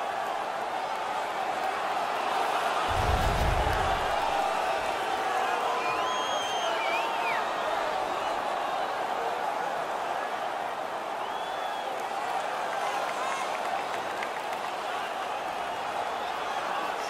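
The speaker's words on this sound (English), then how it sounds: "The home crowd is ecstatic. They're making all kinds of noise." A large home crowd at a playoff hockey game against the Toronto Maple Leafs roars in a sustained, steady wash of cheering and noise, with occasional whistles and shouts rising above the din.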